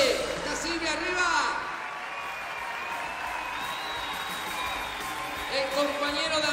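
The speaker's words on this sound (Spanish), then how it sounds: "el aplauso para Roberto" Crowd applause for a school council candidate at an open political meeting with neighbours, a continuous broad patter of clapping with some cheering, while a voice talks over it.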